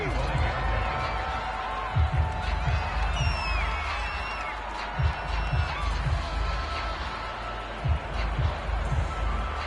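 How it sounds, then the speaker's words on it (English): A stadium crowd in a Madden NFL game featuring the Titans roars in a steady, distant wash, with dull thumps of on-field action and a commentator talking over it. "The crowd may be losing just a little bit of the edge after back-to-back punts."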